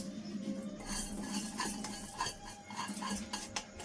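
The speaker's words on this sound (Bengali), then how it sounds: "কড়াই গরম হয়ে গেছে, ডালটা ভেজে নেব" Mung dal dry-roasts in a hot kadai, with a spatula scraping and lightly clinking against the metal as the lentils are stirred; quiet, close and irregular, with only a faint sizzle and no talking.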